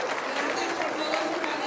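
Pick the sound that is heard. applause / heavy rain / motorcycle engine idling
applause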